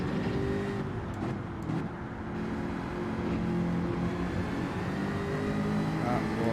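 Gran Turismo 7 racing game car engine droning steadily at high revs, a continuous loud hum with slight swells as the wheel is fought, no speech over it.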